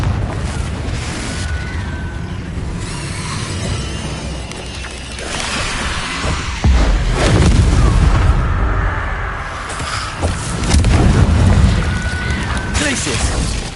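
Confringo spell explosions in the Hogwarts Legacy video game, heavy booming blasts and rumbling debris that swell and fade over several seconds, with a voice speaking over the combat.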